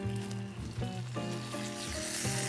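A center-cut turkey rib with the thigh bone in, sizzling steadily in a pan, with a broad hiss running continuously beneath a sustained tonal backing throughout.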